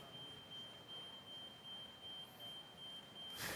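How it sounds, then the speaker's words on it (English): A fire alarm in a conference hall during a fireside chat at the NOAH17 conference in Berlin emits a faint, steady high-pitched tone that persists under room noise throughout. "there's something peeping here, or am I dreaming this? An alarm"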